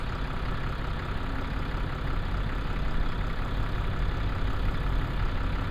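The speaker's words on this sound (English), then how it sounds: "listen to that engine." A tractor engine idles close by, a low, steady chugging throb that runs unbroken from start to finish. No one speaks.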